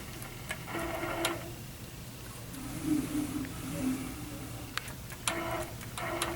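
An Innova longarm quilting machine glides along a loaded quilt while basting, giving a steady close-up hum with quick tick-like clicks and a brief mid-clip drone, with no one speaking.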